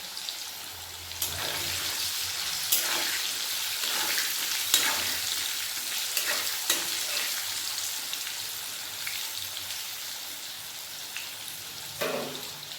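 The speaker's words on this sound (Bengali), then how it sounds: "আলুর মধ্যে লবণ আর হলুদের গুঁড়ো দিয়ে আলুগুলো ভালোভাবে ভেজে নিয়ে" Potatoes frying in hot oil with salt and turmeric give a steady, dense crackling sizzle with scattered louder pops, close and continuous throughout without any talk.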